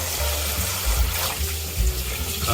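A kitchen sink faucet set to its rain spray setting runs steadily, giving a continuous, close broadband hiss of water with low thumps beneath, and no talking.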